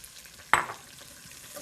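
Mexican chorizo, taken out of its casing and browned, gets a handful of chopped onion tossed into the hot pan, setting off a single sharp sizzle burst that fades quickly into a quiet low fry.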